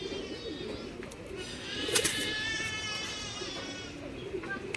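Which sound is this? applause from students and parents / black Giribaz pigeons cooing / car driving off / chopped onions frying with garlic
black Giribaz pigeons cooing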